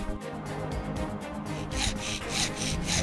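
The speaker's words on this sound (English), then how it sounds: "for the vertical beads, we use the 45-degree mitre buddy" A 45-degree mitre cutter trims a glazing bead for a steel or wood window, giving a close, rhythmic rasping and scraping with repeated strokes that grow brighter toward the end.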